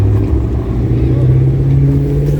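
A car at a car show revving and pulling away, a loud close engine roar building briefly with voices nearby.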